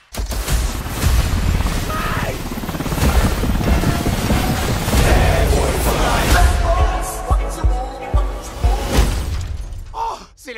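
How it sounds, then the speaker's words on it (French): Helicopters roar through an action movie trailer for Bad Boys 3, a loud, dense rotor rumble mixed with crashes, shattering and booming impacts, ending in a series of heavy hits. "où ils sortent tous ces hélicos?"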